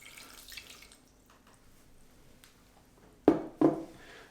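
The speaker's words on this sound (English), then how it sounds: "Now we'll add 240 grams of water to this." Water pours into whole-grain German-style sourdough bread dough in two short splashing bursts near the end, after a quiet stretch.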